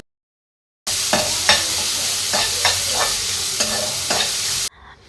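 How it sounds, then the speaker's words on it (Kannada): Garlic and onion stirred through hot oil for a tempering, a steady loud sizzle broken by repeated scraping stirs of the spoon across the pan, with no talking. "ಬೆಳ್ಳುಳ್ಳಿ ಈರುಳ್ಳಿ ಎಲ್ಲವನ್ನು ಹಾಕಿ ಚೆನ್ನಾಗಿ ಇದನ್ನು ಮಿಕ್ಸ್ ಮಾಡ್ಕೋಬೇಕು"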